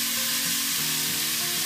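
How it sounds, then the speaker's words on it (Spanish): Onion, garlic and green pepper sautéing in a hot pan, a steady bright sizzle with continuous crackle and no pauses, close and loud. "Tengo aquí una cebolla, ajo y pimiento verde. Adentro."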